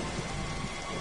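Raindrops spell in Final Fantasy XV: a dense, loud hiss of falling rain covering the whole moment, steady with no gaps and no voices.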